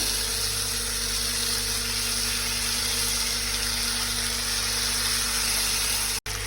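Marinated prawns sizzle steadily in a hot pan over a high flame, a continuous loud frying hiss with a faint low hum underneath.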